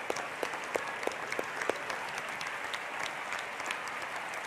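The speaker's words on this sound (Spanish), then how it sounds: "Y pido que les demos un aplauso a estas compañeras." A studio audience at a broadcast of Hugo Chávez's Aló Presidente applauds steadily, a dense wash of clapping heard at a moderate distance with a few sharper individual claps standing out.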